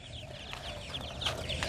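Several young chicks from a hatching of nine-spurred chickens cheep in quick high-pitched peeps, repeated chirps scattered over a soft background, close by with no talking.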